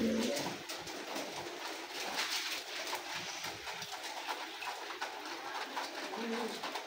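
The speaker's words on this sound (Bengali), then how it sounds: "দেখেন আর একটা কবুতর" Pigeons in a rain-soaked Bengali yard give soft cooing under steady rain hiss, the calls faint and blended into the broadband patter.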